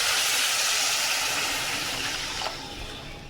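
Water poured into a hot pan of frying fish curry spice mix, a loud broad steamy hiss that slowly fades over a few seconds, no voices.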